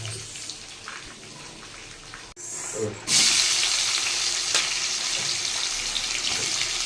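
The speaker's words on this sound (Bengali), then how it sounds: "কালো জিরে শুকনো লঙ্কা আর গোটা জিরে ফোড়ন দিলাম।" Black cumin, dried chillies and whole cumin seeds tempering in hot oil for a spicy fish head curry: a steady close sizzle that jumps louder midway as more goes into the pan, with a brief clatter before the surge.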